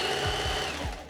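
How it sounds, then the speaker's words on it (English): A sewing machine stitches a lined fabric piece in a steady, loud, rapid mechanical whir with a few short pitch dips as it runs alone up close. "So now that I'm done measuring, lining, everything, we're gonna sew it."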